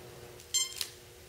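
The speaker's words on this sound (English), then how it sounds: "remember, it's still beeping, and that's okay." An RC plane with its battery connected gives a short electronic beep, a quick bright tone burst followed by a fainter blip, close by over a low steady hum.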